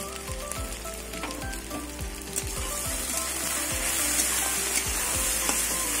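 Taro stolons seasoned with salt and turmeric fry in an oily pan, giving a steady close sizzle and crackle, with a spatula repeatedly scraping and stirring through them in an uneven rhythm.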